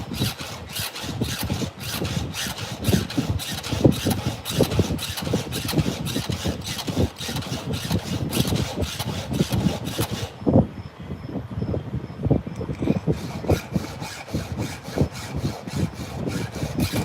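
File rasps across metal while sharpening, in fast repeated rhythmic strokes that run steadily and loudly throughout, briefly changing tone partway through.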